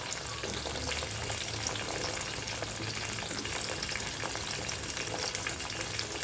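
Steady, dense sizzling of turnips, garlic and whole spices frying in hot oil, continuous and close, with faint stirring noises and no talking.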